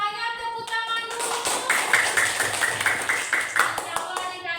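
Students at a junior high school clap their hands together, a dense burst of applause that swells and carries on for several seconds, with faint voices mixed in underneath.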